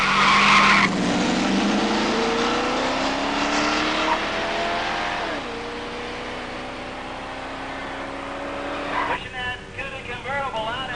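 A 1971 Plymouth Cuda with a 340 engine and automatic transmission launches at a pure stock drag race. Its engine note climbs in long rising sweeps through the gear shifts, loud and sustained, and a burst of tire squeal comes near the end.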